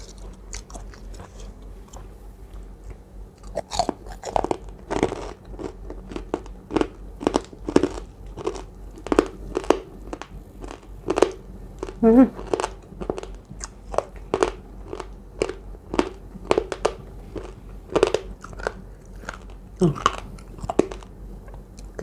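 Crunchy pork cracklings are chewed close to the mic during a mukbang, making a long steady run of loud crisp crunches.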